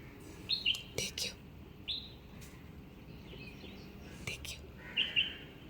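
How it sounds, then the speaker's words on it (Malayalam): Birds chirp outdoors in the early morning: a few short, quiet bursts of tweets spaced through the clip over soft background hiss, alongside low talk or whispering. "പക്ഷി വന്നോ?"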